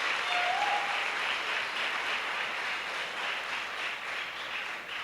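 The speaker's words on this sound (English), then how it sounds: "Please give them a round of applause again for their accomplishment." A secondary school graduation audience applauds the class of 2015, a broad sustained wash of many hands clapping that eases slightly toward the end, heard alone without speech.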